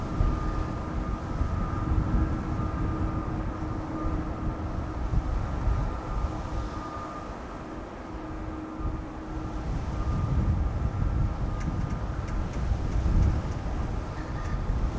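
A Bombardier C Series 300 (A220) jet departs from Amsterdam Schiphol in windy conditions, a steady broad engine roar with a sustained tonal whine that swells and fades slightly over time, mixed with wind noise on the microphone.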